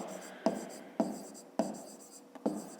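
A pen writes on paper in a fifth-grade math exercise, giving four sharp, evenly spaced taps or strokes over a soft, continuous scratching.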